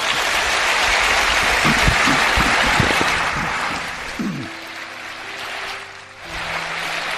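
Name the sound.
audience applause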